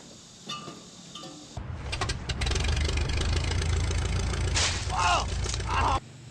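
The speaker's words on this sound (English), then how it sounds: "So let's test the starter." A starter motor cranks an old engine that sat abandoned for 48 years, giving one brief tap and then a sustained, loud mechanical whir for several seconds, close by, which cuts off abruptly.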